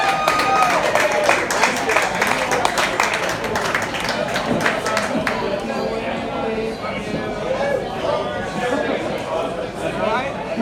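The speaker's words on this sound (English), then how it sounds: "Please give her a warm round of applause." Applause and scattered clapping from a crowd greeting a drag performer at an event, dense and sustained throughout, with cheers and voices mixed in.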